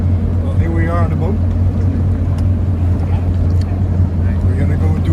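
A motorboat engine drones steadily and loudly on the water, a constant low rumble with wind and water noise, while people talk over it.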